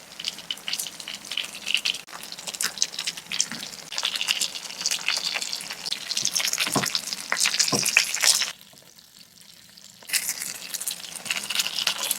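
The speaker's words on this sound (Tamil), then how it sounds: "எல்லா மீனையும் மீடியம் ஃப்ளேம்லயே அஞ்சு நிமிஷம் ஒரு ஒரு பக்கமும் வச்சு ஃப்ரை பண்ணிவிட்டு" Fish frying in oil in a pan over a medium flame crackles and spits in a dense, uneven sizzle, briefly dropping to near quiet before resuming, with no talking.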